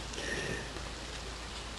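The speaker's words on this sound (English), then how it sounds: "We still got 4 hours of rain, so it'll fill back up." Steady rain falls across a farm, a continuous even hiss with no distinct drops standing out, moderately loud and unbroken for the whole stretch.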